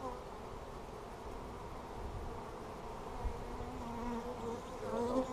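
Honeybees hum steadily around an opened hive in a bee yard during hive splits, a soft continuous buzz close to the microphone that swells slightly toward the end.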